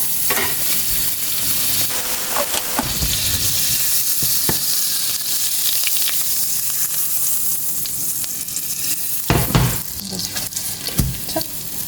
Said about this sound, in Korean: 살짝 두르고 버터를 또 넣습니다.